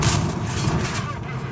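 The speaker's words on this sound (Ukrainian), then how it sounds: "наш Батгер стріляє голдовими підкаліберами" FV217 Badger tank destroyer in World of Tanks firing APDS gold rounds: a dense, booming cannon blast with rolling low rumble filling the whole moment, loud and close, with game noise underneath.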